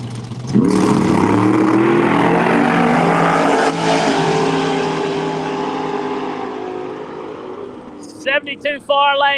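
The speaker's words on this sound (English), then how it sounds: "Luther's car was backfired and sputter and runs 479" Drag race car launching down the lane at a county dragstrip, a loud engine roar that sputters and fades as it pulls away, followed by an announcer's voice over the public address.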